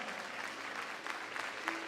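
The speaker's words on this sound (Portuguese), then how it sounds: "Fique em pé e aplauda ao Rei que honra" A church congregation applauds together at a worship service, a steady wash of many hands clapping at even loudness with a few sharper bursts near the end.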